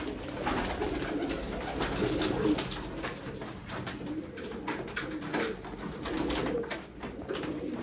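A flock of about 120 pigeons coos softly and repeatedly in overlapping, low murmuring calls, a steady chorus with rustling and distant background noise.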